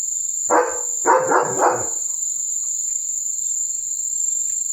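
A steady, shrill chorus of crickets runs throughout at night while a nearby German Shepherd lets out a few quick barks early on.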